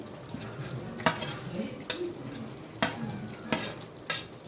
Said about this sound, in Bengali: দিয়ে আবারও ভালোভাবে একটু নেড়ে নিচ্ছি